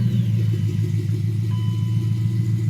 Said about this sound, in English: Just get that nice little kind of fluffle sound from the exhaust